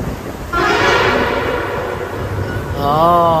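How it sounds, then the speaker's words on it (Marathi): A loud horn sounds twice, a long blast and then a shorter one, over a steady roaring rumble that echoes inside a long tunnel near Banihal, Kashmir. "हॉर्न वाजत आहे मुद्दामच बघा"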